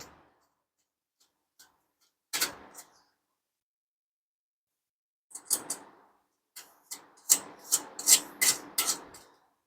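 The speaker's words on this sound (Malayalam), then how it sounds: "കൈകൊണ്ട് തിരിക്കാൻ ബുദ്ധിമുട്ടുള്ളവർ സ്ക്രൂ ഡ്രൈവർ ഉപയോഗിച്ച് അങ്ങനെ തിരിക്കുക" A screwdriver turns screws while a saree stand is assembled. Quiet at first, then scattered bursts of close rasping and creaking, growing into a busier run of quick scraping turns toward the end.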